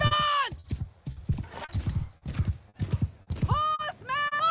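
Horses gallop in a battle in Mount & Blade II: Bannerlord, with rapid, uneven hoofbeats throughout and loud whinnies at the start and near the end.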